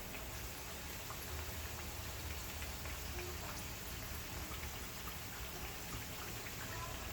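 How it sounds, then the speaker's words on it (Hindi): Chocolate samosas fry gently in oil over a low flame, giving a steady, dense crackling sizzle like light rain that runs unbroken and fairly close. "इनको मैंने पलट लिया है और अब ये इसी तरह से हल्के हल्के फ्राई होते जाएंगे"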